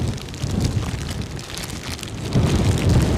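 Rain pours steadily during a storm near Edinburgh Airport, a dense hissing wash with low gusty rumble that grows louder toward the end, no voices.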